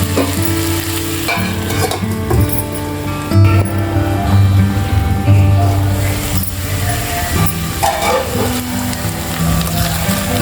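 Okra fries Andhra style in oil with dried coconut, salt and chilli powder, giving a loud, continuous sizzle throughout, with a spoon stirring and scraping and occasional light clinks against the pan.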